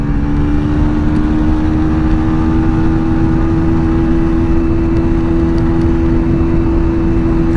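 A Bajaj Pulsar 150 motorcycle accelerating hard in third gear gives a loud, close, sustained engine drone with a steady pitch and a constant buzzing tone, without speech.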